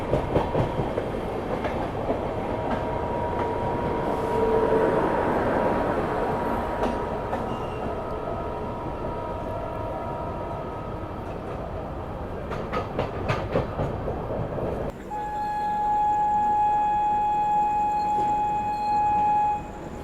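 The Mizoram Rajdhani Express running on the tracks: a steady, loud rolling rumble with clacking wheel rhythm throughout, joined near the end by a sustained high tonal whine.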